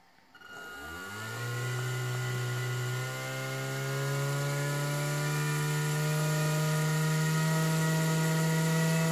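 An electric motor spins up from rest within the first second into a loud, steady whine that climbs slightly in pitch and holds, close and continuous, with no speech.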